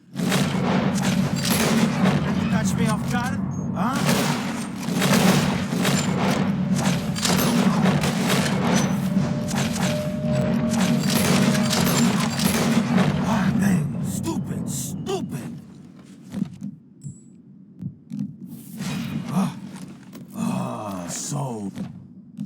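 Gunshots fire in Red Dead Redemption 2 as players shoot at flying birds, a rapid series of loud booming blasts layered over a steady low drone, thinning out toward the end with scattered shots and brief talk.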